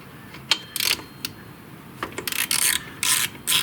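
A ratchet loosening the front brake caliper bracket bolts on a Yamaha Kodiak 400 ATV gives close, crisp ratcheting bursts, first a few separate clicks and then longer rapid runs of clicking.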